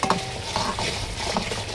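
Spice paste stirred and sautéed in a pan at a Bangladeshi restaurant kitchen for hilsa fish cooked with bottle gourd and eggplant, with steady sizzling and a few scraping stirs and utensil clinks.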